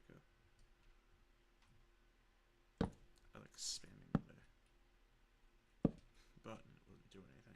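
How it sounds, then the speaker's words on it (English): Sharp keyboard clicks scattered through a Minecraft gaming session, a few distinct loud taps standing out, heard under a player's talk. "I hope you guys can't hear my keyboard"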